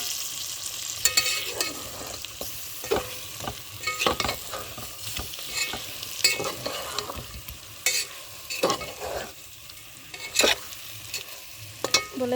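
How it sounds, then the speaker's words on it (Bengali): Pre-fried egg and potato are stirred into a spiced tomato masala with chilli and turmeric powder, a frying sizzle broken by repeated sharp spatula scrapes and clacks against the pan. "এখন দিয়ে দেবো আগে থেকে ভেজে রাখা ডিম আর আলু"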